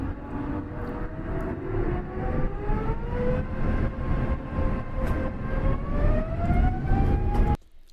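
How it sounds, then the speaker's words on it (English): A sampled jet engine roar used as ambience in a big room house track, a loud sustained rumble with rising whining tones that swell steadily for several seconds before cutting off abruptly. "I sampled a jet engine sound for this to use as an ambience."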